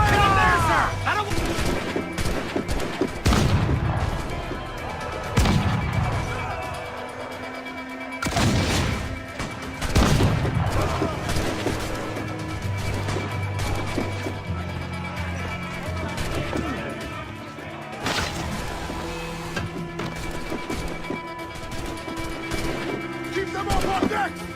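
Heavy cannon fire booms from ships in Assassin's Creed 4: Black Flag, several loud blasts spread across a chaotic battle with crashes, shouting voices and a music score underneath.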